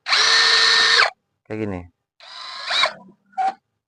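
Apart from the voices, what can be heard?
KEELAT KCD 007 brushless cordless drill running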